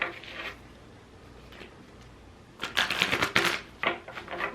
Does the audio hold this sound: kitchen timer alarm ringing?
no